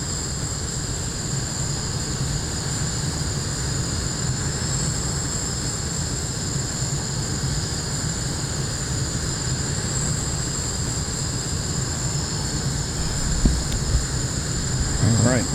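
An aircraft engine drones steadily in a flight simulator during a group flight over South Korea, a continuous even hum with high whining tones that stays level throughout, with people talking intermittently over it.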